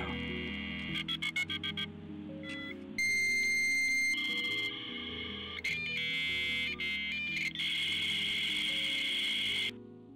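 Modem-style telephone dialing tones in the game Digital: A Love Story, a quick run of electronic beeps followed by long steady tones and screeching connection sounds, loud and synthetic, with no speech.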